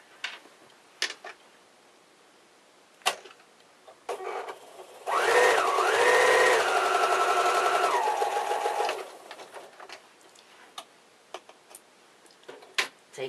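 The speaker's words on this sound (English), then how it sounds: "Now, I'm going to sew it." A sewing machine stitches through fabric in one steady run of about four seconds, rising in speed and then holding, between quieter stretches of small clicks and handling noises.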